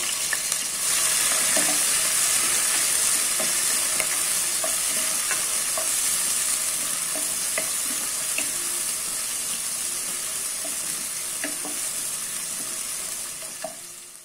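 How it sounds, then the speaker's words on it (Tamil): Three green chillies and two large onions sautéed in a pan for tomato dum biryani, a loud, steady frying sizzle with scattered crackles and occasional scraping stirs, close and continuous before softening at the end. "மூணு பச்சை மிளகாய் எல்லாம் போட்டு வதக்கிக்கலாம்."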